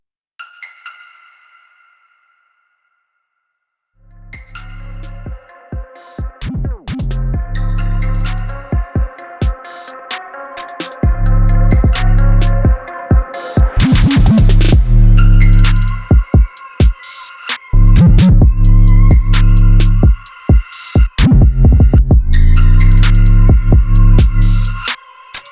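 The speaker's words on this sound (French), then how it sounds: "Pour ça j'ai designé une autre key, toujours avec cette belle petite reverb au fond. Puis j'ai fait une mélodie super simple avec des reverbs sur certains passages" A Korg Minilogue synthesizer plays a simple repeating key melody drenched in reverb, building into a loud trap chorus with heavy bass hits and bright layered tones, starting after a short sparse intro.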